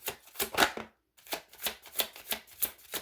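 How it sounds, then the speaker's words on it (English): Tarot cards are shuffled by hand in quick, rhythmic riffling bursts, close and crisp, with a brief pause before the shuffling resumes at a steady pace; no one speaks. "you have to put up with me shuffling"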